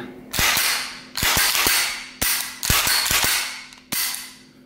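Beretta 92 S 9x19mm pistol being reassembled, its slide and takedown key worked by hand: a series of sharp metallic clicks and snaps in four or five bursts, each followed by a rattling decay, close and fairly loud, with no talk.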